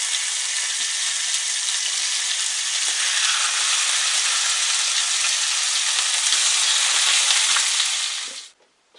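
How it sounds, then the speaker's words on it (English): Ostrich rouladen sear in a hot pan, giving a loud, dense, hissing sizzle that holds steady and close for several seconds before cutting off abruptly at the end. "We got them all nicely seared into our pan"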